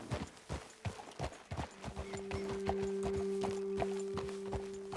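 Horses in the video game Red Dead Redemption 2 clip-clop on the ground in an irregular run of close, sharp hoof strikes that settle into a steady walking rhythm over a low sustained tone.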